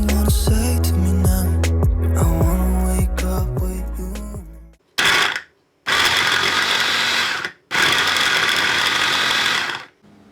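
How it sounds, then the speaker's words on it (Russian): An electric blender chops sponge cake into crumbs with a loud whirring motor that starts, stops and restarts in several bursts separated by brief silences. "Для этого мы будем использовать блендер."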